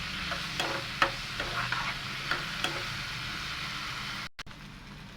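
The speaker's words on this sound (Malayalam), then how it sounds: "അപ്പോൾ നമ്മുടെ പാവയ്ക്ക ഉണക്കണത് നന്നായിട്ട് വഴണ്ട് വരട്ടെ" Steady sizzling of bitter gourd frying in a pan, with occasional clinks and scrapes of a spoon stirring, then a brief cut near the end.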